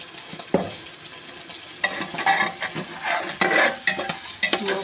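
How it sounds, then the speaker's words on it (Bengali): Spice masala with turmeric and salt sautéed in a pan, a spoon scraping and stirring in repeated bursts over a bright sizzle, fairly close and loud. "মশলাটা সুন্দরভাবে কষিয়ে নেব।"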